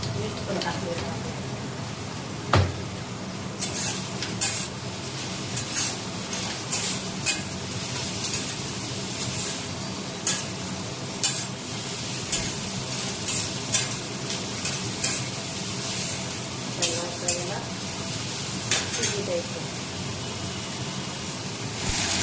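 Onions and tomatoes cook in a pan with a steady sizzle and frying hiss, broken by occasional sharp clicks of a utensil against the pan. Someone speaks lightly now and then over the sizzle.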